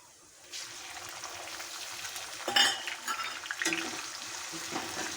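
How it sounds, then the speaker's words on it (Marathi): Tomatoes sautéing with browned chopped onions in a pan give a steady, close sizzle and fry, with a few scraping stir strokes partway through. "टोमॅटो मऊसूक होईपर्यंत परतून घ्यायचे"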